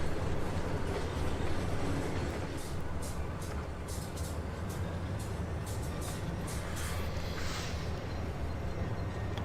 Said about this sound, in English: The first train drive on the new layout.